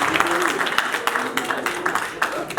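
Audience applauding at a film launch event, a brisk wash of clapping from a crowd with scattered sharper claps, steady and fairly loud across the whole moment.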